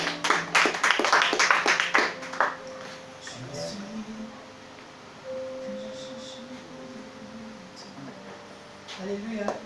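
A church congregation claps and cheers in acclamation of Jesus Christ, with a burst of dense clapping at first that fades into a sustained sung or spoken tone and murmuring voices.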